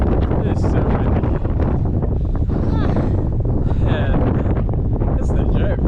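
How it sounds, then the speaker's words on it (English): Strong wind buffets the microphone on a rocky mountain summit in New Hampshire, a loud, continuous roaring rush with gusty swells and faint voices half-buried beneath it. "It is so windy."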